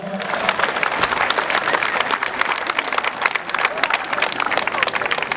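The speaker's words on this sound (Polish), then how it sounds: "I teraz rozbrzmiewają oklaski tradycyjnie." Crowd applause at a half marathon awards ceremony, loud and close, with many sharp individual claps mixed into a dense steady wash and some crowd murmur beneath.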